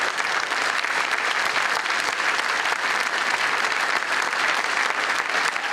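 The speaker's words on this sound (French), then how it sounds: "avec une standing ovation" An audience gives a standing ovation: dense, steady clapping from many hands that holds at an even, loud level throughout, with no voices standing out.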